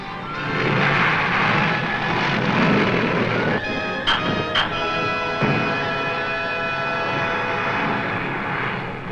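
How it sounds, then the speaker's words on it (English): Carrier planes return to land aboard aircraft carriers, a loud sustained engine drone with a couple of sharp clanking impacts partway through. "The planes come in to land."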